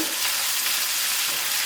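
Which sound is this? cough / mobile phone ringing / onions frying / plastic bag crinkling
onions frying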